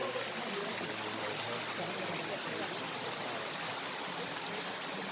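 Kanhatti waterfall in Soon Valley, Khushab, Punjab, Pakistan: a steady, dense rush of flowing water fills the scene evenly and continuously, with no breaks.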